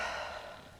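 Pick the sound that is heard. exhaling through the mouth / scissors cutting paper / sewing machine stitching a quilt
exhaling through the mouth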